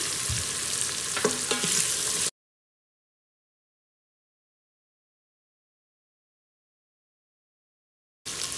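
Green chilli sizzles in hot oil inside an Instant Pot while making bagara rice, a loud close frying hiss that cuts out into silence and briefly returns at the end.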